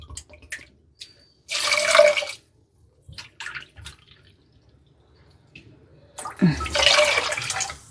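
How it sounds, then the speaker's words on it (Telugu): Water is poured from a vessel into soaked sago pearls in two separate splashing pours, each lasting about a second, close by with faint handling noises between them and no talking. "1 కప్పుకి మనం 2 కప్పుల నీళ్ళు వేసుకోవాలి"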